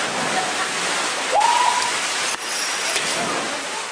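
A waterfall cascades through a narrow canyon with vertical walls less than five metres apart, making a loud, steady rushing roar with no pauses.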